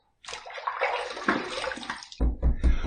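Running water from a tap splashes as a face is rinsed during a shave, a close steady gush followed by several louder, choppy splashes of cupped water.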